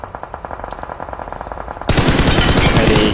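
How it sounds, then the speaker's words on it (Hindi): Glitched gunfire in a mobile battle game keeps going without a break: a steady rattling stream of rapid shots that swells into a louder, denser automatic burst partway through. "कंटिन्यू फायर हो रहा कितना मार रहा है"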